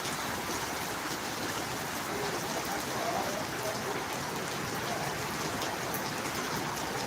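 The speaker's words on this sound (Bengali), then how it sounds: "বিশাল এরিয়া এখন বৃষ্টির জন্য সম্পূর্ণ এরিয়া" Heavy rain pours steadily over a large parking area for cars and motorcycles, a dense, constant hiss with no break throughout.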